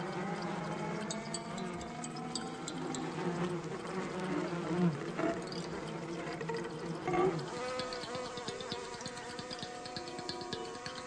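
Bees buzzing while gathering pollen from flowers, a steady layered drone of several insects with wavering pitch, close and fairly loud, continuing without pause and without talking.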